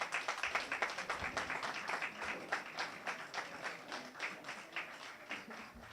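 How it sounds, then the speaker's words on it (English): An audience at a school board election forum in Dearborn claps steadily, a dense crowd applause that holds evenly throughout and fades slightly near the end. "Please stand up and give him a round of applause."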